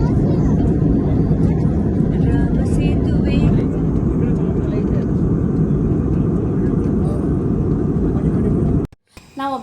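A passenger airliner landing at Colombo after a flight from Bengaluru: a loud, steady cabin roar of engines and airflow fills the clip with people talking over it, ending in an abrupt cut.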